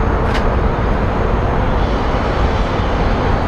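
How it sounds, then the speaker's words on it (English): Southwest and American Airlines airliners taxiing at Phoenix Sky Harbor, a loud, steady broadband engine rumble and whine with a brief sharp click early on. "We have a Southwest and what looks like an American Airlines flight taxiing."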